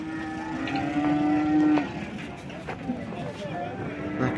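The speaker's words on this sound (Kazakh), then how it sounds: "Mынакей Токтолдо жаңы ачылган мал базарга келип көрүп атабыз." Cattle moo at a newly opened livestock market in Toktogul, with one clear, drawn-out low moo near the start. Crowd noise and talk continue throughout the background.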